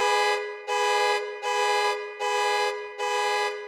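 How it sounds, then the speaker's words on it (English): A car alarm sample blares five identical long electronic horn tones in an even, steady rhythm, loud and close with short gaps between them and no voices. "So I simply got a car alarm sample and played it over the scene."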